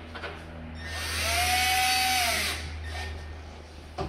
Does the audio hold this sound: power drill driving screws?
yes